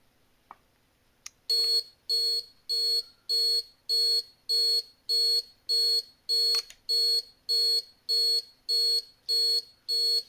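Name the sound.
alarm sounding from receiver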